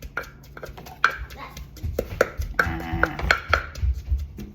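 A pestle pounds papaya salad in a mortar, giving a series of irregular close thuds and clacks, while people talk throughout.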